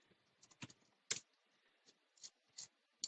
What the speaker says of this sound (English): I hit slash, and then I just start typing.